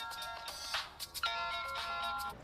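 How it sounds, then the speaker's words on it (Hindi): A mobile phone ringtone plays a steady melodic ring, fairly loud and close, with no talking over it. "ये उसी का फोन है।"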